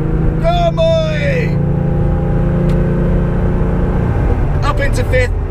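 A Porsche 911 restomod with a five-speed gearbox pulls hard on the road, a loud, steady engine drone rising through the gears inside the cabin, with a voice talking briefly near the start and again near the end.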